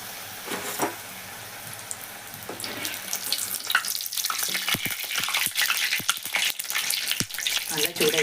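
Samosas and puffs fry in hot oil, a continuous bubbling sizzle that starts softer and grows busier, with sharp crackles and spits scattered over the second half.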